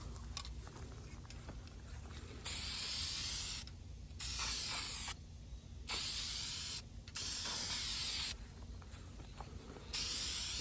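A spray paint can puts a third coat on a car rim in about six separate hissing bursts, each roughly a second long, with quiet gaps between them.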